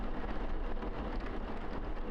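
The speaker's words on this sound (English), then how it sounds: "and then it's raining outside too" Steady rain falling outside in a video game, a dense continuous hiss with low rumbling texture throughout, fairly loud and alone with no voices.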